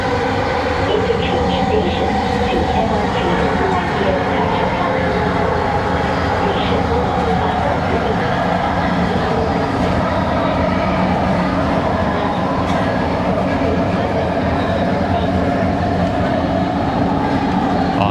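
A train passing near Kuala Lumpur station produces a loud, steady roar of wheels and rumbling carriages that fills the whole stretch without letup, close by and drowning out everything else.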